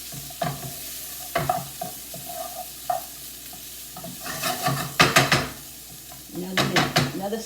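Onions, carrots, peppers and corn frying in a pan under a steady sizzle, with repeated close stirring and scraping strokes clattering against the pan in irregular bursts.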